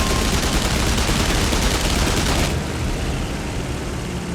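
Rapid, continuous aircraft machine gun fire from a biplane dogfight with an Albatros in the IL-2 Flying Circus game, loud dense bursts over engine drone that ease slightly midway, with no talking.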